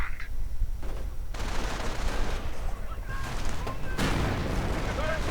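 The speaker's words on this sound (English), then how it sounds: "Riflemen taking quite a bit of fire. Now the MG42 gunner is joining in as well." MG42 machine gun bursts and rifle shots crack and rattle through a World War II strategy game battle, continuous loud gunfire with scattered heavier blasts and sharp impacts layered densely throughout.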